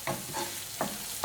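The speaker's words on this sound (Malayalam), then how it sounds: "ഇഞ്ചിയുടെയും വെളുത്തുള്ളിയുടെയും പച്ചമണം മാറുന്നത് വരെ നന്നായിട്ട് വഴറ്റി കൊടുക്കാം" Crushed ginger and garlic sautéing in a pan for a Kerala-style country chicken curry, heard as a quiet steady sizzle with a few soft stirring scrapes, no talking.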